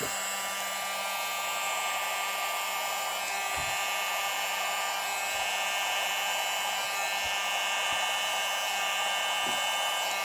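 A hair dryer blows steadily on a small test blob of poured acrylic paint, a continuous loud airy whoosh with a few faint knocks, no voices.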